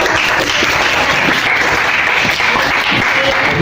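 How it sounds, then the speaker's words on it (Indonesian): A classroom of students claps together in a dense, steady round of applause that stays loud and even for a few seconds, with no voices over it. "Oke, kita kasih aplaus."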